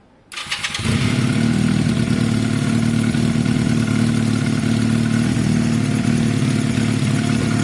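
A Honda CB250 motorcycle engine starts and settles into a loud, steady idle with a throbbing, even beat, running alone without voices.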